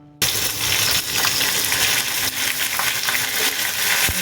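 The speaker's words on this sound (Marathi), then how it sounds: "तेल साधारण गरम झालं ना आपण ह्याच्यामध्ये टाकणार आहोत मोहरी, जिरं, लाल मिरची आणि भरपूर सारा कढीपत्ता." Mustard seeds, cumin, red chilli and plenty of curry leaves hit hot oil for a beetroot stir-fry, bursting into a sudden loud sizzle that crackles steadily with scattered pops and occasional utensil knocks, no voices.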